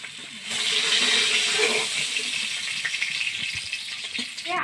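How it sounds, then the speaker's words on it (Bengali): Hilsa fish pieces sizzle in hot oil in a pan, a continuous watery crackle and hiss that swells after a quiet start and carries on with small pops, no speech. "এদিকে আমার মাছটা ভাজা হয়ে গেছে, এবার তুলে নেব।"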